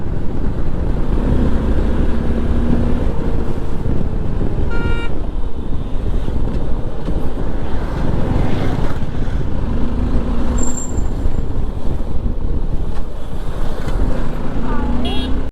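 A motorcycle rides along a busy road behind a row of six cars, its steady loud engine and wind roar continuous throughout, with passing vehicle noise and short horn toots at intervals.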